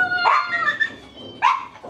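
Dogs at a crowded animal shelter give two sharp, close, high-pitched barks with whiny yips between them, loud and distinct.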